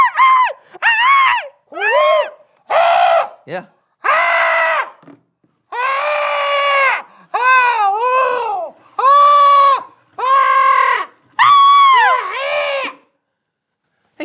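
A person imitating a weird high scream, a run of about a dozen shrill, wavering yelps and shrieks in quick bursts, loud and close, with short pauses between them.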